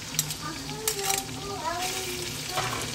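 Garlic paste fries and sizzles in a pan while it is stirred, with occasional scraping and clinks of the utensil. Someone talks quietly over the frying.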